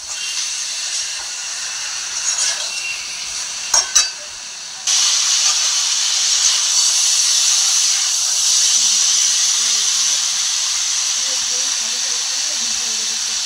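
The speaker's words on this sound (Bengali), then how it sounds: "মশলাগুলো ভাজা হয়ে গেছে" Spices frying in oil in a pan for a Bengali fish curry with cauliflower and lentil dumplings, a steady close hiss throughout with a couple of brief clatters near the start and a louder sizzle after a few seconds.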